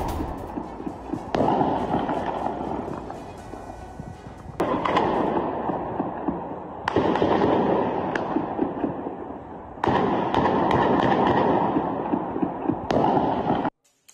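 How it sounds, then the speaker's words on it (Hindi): Gunfire during a clash between Israeli forces and Hamas supporters in Jenin, West Bank, heard as dense crackling volleys in several sustained bursts with short lulls between them. "वेस्ट बैंक के जेनिन में गोलीबारी हुई, इजरायली सेना और हमास समर्थकों में गोलीबारी हुई है"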